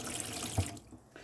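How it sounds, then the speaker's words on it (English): Water runs freely from the taps of a 2016 Bailey Pegasus Palermo caravan with the water pump switched on, a steady close hiss of flowing water at low level, alone. "the water pump's turned on, and we've got water running freely out of all the taps"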